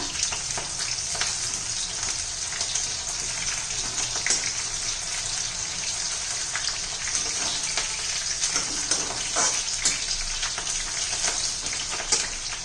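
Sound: green chillies frying in oil

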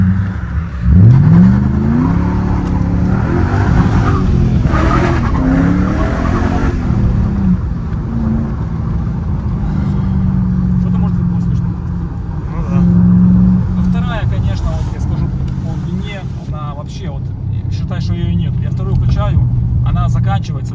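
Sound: BMW car engine revving

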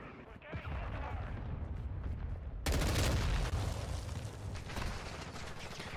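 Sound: cruise missile explosions in video game Modern Warfare 2

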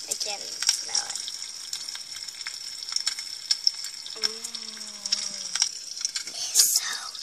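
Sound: bacon sizzling

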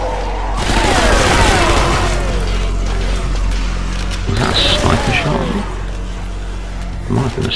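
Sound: sniper rifle shot in the video game Zombie Army Trilogy

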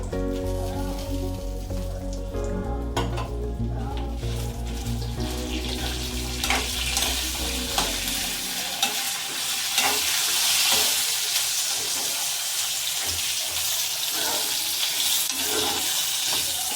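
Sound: dried red chillies and curry leaves frying in a pan

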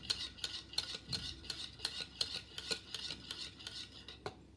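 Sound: whisking sugar into yogurt for grape raita

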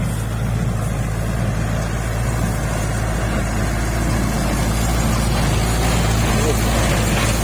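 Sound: Chaktiman M5000SU straw baler running

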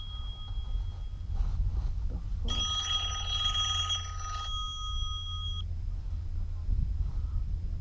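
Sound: mobile phone ringing

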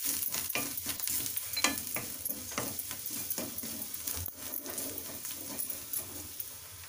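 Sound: stirring pav bhaji masala mixture in a pan

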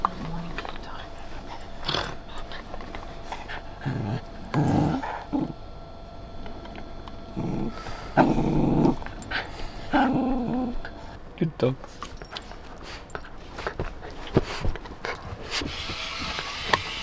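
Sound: dogs on a morning walk

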